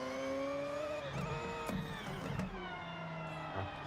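A naturally aspirated rotary engine on a car in Forza Horizon hums steadily and climbs and falls in pitch through gear changes. Its tone is bright and harmonic, and it plays alone at moderate volume.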